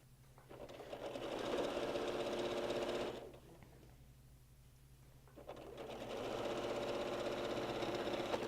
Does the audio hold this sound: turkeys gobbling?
no